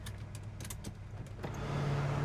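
A 1970 Chevrolet Chevelle SS pulling away on a drive, engine idling with a low rumble and a few clicks before a steady low drone builds, close and moderately loud.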